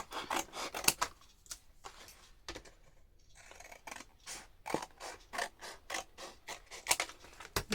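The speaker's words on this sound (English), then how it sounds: "Put through my trimmer without these on." A paper trimmer slices through strips of scrap paper, giving a run of crisp, close cutting strokes and short rasping swishes in uneven rhythm, with a brief pause midway and no voices.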